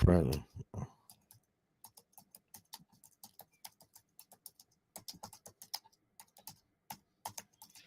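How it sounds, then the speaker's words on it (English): Fingers tap a computer keyboard in bursts of quick clicks with short pauses, close and fairly quiet, after a brief sound at the start. "sorry about typing"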